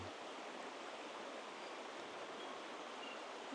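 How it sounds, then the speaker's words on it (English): Steady, soft rushing of gurgling stream water, a continuous even wash with no voices or other distinct sounds. "With the gurgling water, and occasionally further from the water there's also birds."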